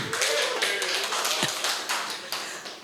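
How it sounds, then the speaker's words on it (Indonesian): Applause for a production team on a football podcast set, a few people clapping in loose, uneven bursts with sharp individual claps, close and moderately loud. "Tepuk tangan buat tim produksi dulu."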